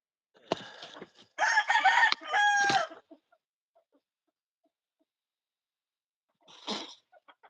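Chickens cluck and a rooster gives a short crow in bursts separated by quiet, fairly close and moderately loud.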